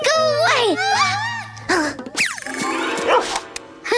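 A cartoon dog barks sharply in a brief burst amid a backyard search, surrounded by near, lively character voices, including a child, talking and singing.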